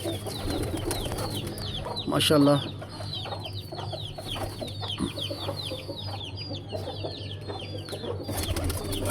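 Pigeons coo and murmur softly in a busy loft, with a brief burst of wing flapping and a short spoken word in the middle.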